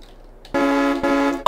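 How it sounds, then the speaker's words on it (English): Service truck horn in Farming Simulator 22 blasts twice, loud and close: a half-second honk followed almost immediately by a second, slightly shorter one, clean and brassy with no talking. "Oh, I love this horn."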